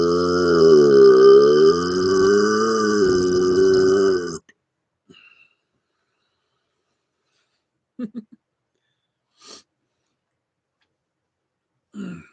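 A single long, loud burp rumbles and wavers for about four seconds, then cuts off. Scattered faint clicks and small noises follow in near silence.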